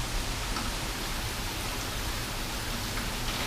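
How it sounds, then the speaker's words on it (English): Heavy rain from Hurricane Harvey pours down outdoors as a steady, dense hiss that stays level throughout, with no voices. "Yeah, it's raining so hard right now."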